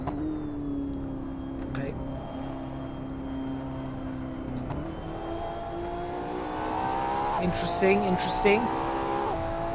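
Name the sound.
LaFerrari engine revving in the video game Assetto Corsa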